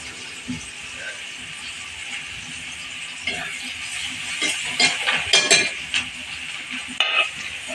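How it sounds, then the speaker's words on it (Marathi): Oil sizzles steadily in a pan while a utensil scrapes and stirs onions and cumin, with occasional metallic clinks building toward the end, cooking over a wood-fired clay stove. "मम्मीने कांदा टाकलेला आहे तव्यामध्ये तेल टाकलेलं आहे"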